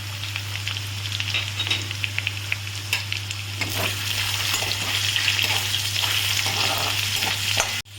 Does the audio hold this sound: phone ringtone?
no